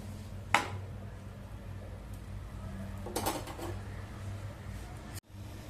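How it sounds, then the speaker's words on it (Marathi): A matar paratha is flipped on a hot pan, giving one sharp clatter near the start and a softer scraping rustle a few seconds later, over a steady low kitchen hum. "आता मिनिटभर एका बाजूने चांगला पराठा भाजलेला आहे. आपण उलटवून घेऊया."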